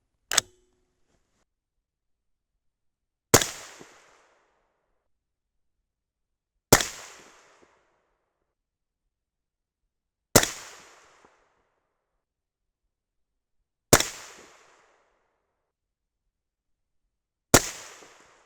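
Six sharp AR rifle gunshots firing 77gr Berger OTM Tactical bullets loaded with 8208 XBR powder, spaced about three and a half seconds apart, each loud crack trailing into a short outdoor echo with silence between shots.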